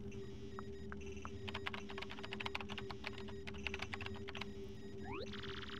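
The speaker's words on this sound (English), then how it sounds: "Use the keyboard to send whatever message you want." Typing on a keyboard in a video game: a quick run of light clicking keystrokes over a steady electronic hum, ending in a rising synthetic chirp.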